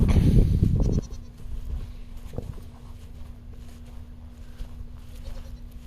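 Goats on a Florida farm bleat in a loud burst close by at the start, then a shorter call follows, leaving a quieter background of shuffling and faint farm noise.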